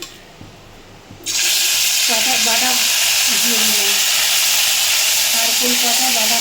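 Food frying in hot mustard oil gives a loud, steady sizzle that bursts in suddenly after a quiet moment and carries on strongly, with faint clinks of stirring beneath.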